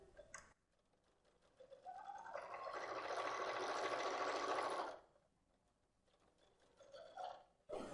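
A sewing machine stitches a pocket onto a garment in one steady burst of rapid whirring for about three seconds, bracketed by quiet handling clicks.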